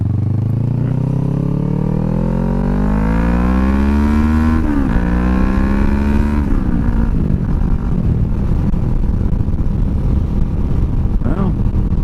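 A motorcycle fitted with a Delkevic SS70 slip-on exhaust roars loud and close while being ridden, its engine note rising steadily through the gears before dropping and settling into a rough, rumbling drone; no one speaks.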